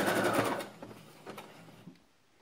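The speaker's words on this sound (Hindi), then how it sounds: "इसमें हम जिग-जैग वाला टांका लगा रहे हैं।" Sewing machine running a zig-zag stitch on the piping of a frock, a fast whirring burst that slows into a few short stitching pulses before stopping.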